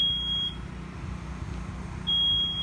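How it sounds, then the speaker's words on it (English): A high, piercing residential smoke alarm tone sounds twice during an early-stage house fire, a long beep, a pause of about one and a half seconds, then another, over a low background rumble. "you realize it's the smoke alarm that's going off"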